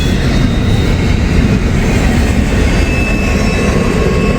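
A long intermodal freight train rolls past close by, a loud dense rumble of wheels and wagons with rattling clatter and faint steady squeal tones, continuous and unbroken without voices.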